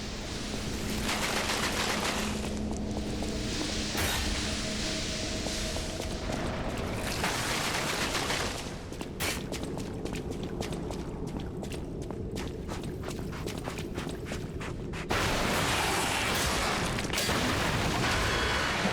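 Shotgun blasts in the video game Lies of P, a run of sharp, loud bursts clustered through the middle, over steady game ambience and footsteps, with a louder rumble near the end.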